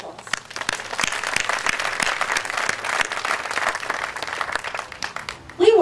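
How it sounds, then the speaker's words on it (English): Audience applause at a 2016 Doraville State of the City address, a steady wash of many hands clapping for several seconds in a hall, continuous and fairly loud, with a louder burst near the end. "I think you should give yourself a round of applause"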